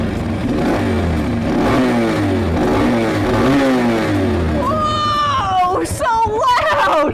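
A motorcycle engine revs as the throttle is twisted, rising and falling in several close, loud surges. A person then exclaims and speaks over the idling engine.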